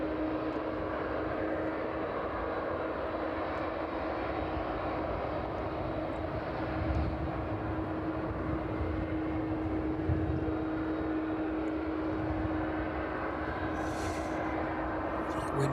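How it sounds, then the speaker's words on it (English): Ryanair airliner taxiing toward runway 27 at East Midlands Airport, a steady distant jet engine drone with a sustained whine, holding level throughout with a light wind noise underneath. "Looks like the Ryanair is making its way down to runway 27 as well."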